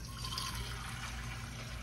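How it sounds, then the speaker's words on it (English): Water is poured into a baking pan for a cheesecake water bath, making a soft continuous trickling, filling sound that holds steady and close for a couple of seconds, quiet and with no talk. "I'm gonna put some water in the pan"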